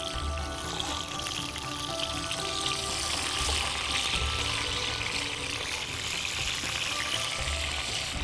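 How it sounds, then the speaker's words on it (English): Chopped tomato frying in very hot oil for a kofta biryani, a steady dense sizzle and crackle running unbroken and fairly loud throughout, with no talking. "when you add tomato to super hot oil, what happens is it starts frying and it starts breaking down"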